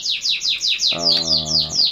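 A canary chirps in a rapid series of bright, descending notes, close and clear, with a short buzzy trill midway.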